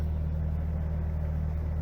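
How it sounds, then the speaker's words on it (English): A Bobcat skid-steer loader engine idles on an icy farm, giving a steady low drone with constant loudness and no voices over it. "I went to start the bobcat"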